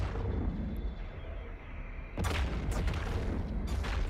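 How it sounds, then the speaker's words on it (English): Weapons fire in a space-combat site in EVE Online, a dense, loud rumble of booming shots that surges sharply halfway through into heavier blasts and crackling bursts, with no speech. "Those gunshots are super loud."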